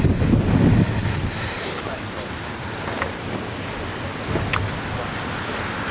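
Gusting wind outdoors on a walk around Mons Hill, a former school site now a housing estate, a broad, steady rush with a stronger gust at the start and faint thumps of wind hitting the microphone.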